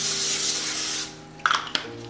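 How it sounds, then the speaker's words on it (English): Cooking spray hisses onto a baking sheet in a single steady burst of about a second, close and fairly loud, followed by a couple of faint clicks and clatters. "You're gonna have your baking sheet, which you're gonna use a little bit of cooking spray on"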